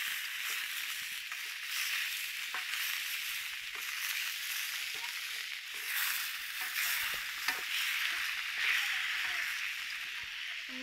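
Food sizzles and fries steadily on a pan over a homemade rocket stove outdoors, a continuous close crackling hiss with occasional pops and stirring scrapes.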